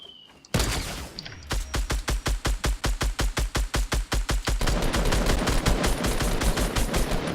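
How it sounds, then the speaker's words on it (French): Rapid gunfire in a video game: an opening blast, then a long burst of evenly spaced shots, about six per second, close and loud, blending into a denser roar of fire at the end. "Moi, je lui ai mis une balle de snipe."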